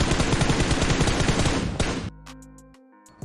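Rapid automatic gunfire in the mobile battle-royale game PUBG Mobile, a dense loud burst that cuts off abruptly, then quieter game tones and a faint click.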